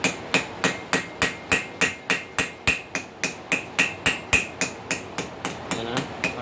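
A ball peen hammer strikes hot metal at a forge in a steady, loud rhythm of about twenty evenly spaced blows, each ringing briefly, with no talking.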